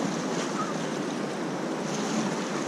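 Small waves splash steadily against a paddled boat on open water during a racecourse training run, a continuous near wash with wind noise and no voices.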